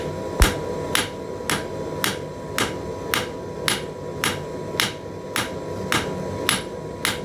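Hammer blows striking hot steel while forging the taper on the reins of a pair of blacksmith tongs, a steady series of about eleven evenly spaced, ringing strikes close by, with no talk.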